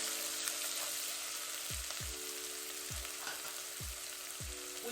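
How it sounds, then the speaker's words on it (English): Onion frying in olive oil as the base for jollof rice: a constant bright sizzle close by, joined by a few low, regular tonal swoops that fall in pitch, with no speech. "I'm just going to go in with a bit of olive oil. I'm going to go in with some onion."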